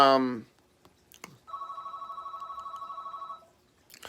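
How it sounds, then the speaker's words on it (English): A landline-style telephone rings in the background with a rapid trilling electronic bell lasting about two seconds, between brief bits of nearby speech. "I apologize for the phone in the back"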